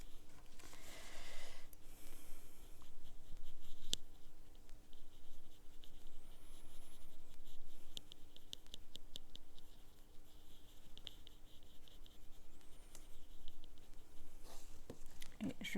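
Transparent embossing powder poured onto paper for a bookmark craft, a soft granular patter and rustle close to the microphone with faint handling noise and breathing.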